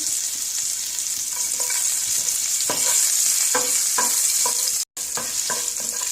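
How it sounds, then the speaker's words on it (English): Ginger and green chili frying in a pan for a peanut butter pasta with vegetables, a steady sizzle broken by scattered stirring scrapes and clinks, close and fairly loud, with one brief dropout. "So now I'll add the ginger and the green chili"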